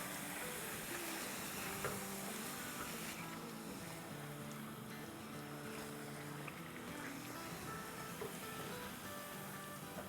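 Chicken pieces with Kashmiri red chilli powder and salt sizzle steadily in hot oil in a pan while being stirred, a continuous even frying hiss with occasional scraping, no voices.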